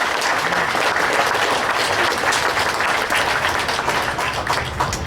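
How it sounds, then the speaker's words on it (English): Audience applause at a political group's general meeting honoring Senator Mastriano, sustained and fairly even clapping from a roomful of people, continuing steadily throughout. "Yeah, that deserves an applause."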